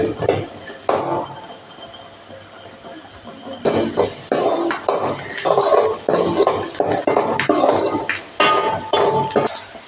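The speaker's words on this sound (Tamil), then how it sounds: "வெங்காயம் பொன்னியாக ஆகிற வரைக்கும் நல்லா வதக்குங்க" Onions and curry leaves cooking in a pan, with clinks and scrapes of a utensil stirring against the pan, soft at first and then busier, in a series of close, irregular bursts.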